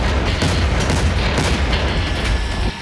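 A loud, sustained roar of an explosion blast in Syria with heavy low rumble throughout, dense and continuous, cutting off near the end.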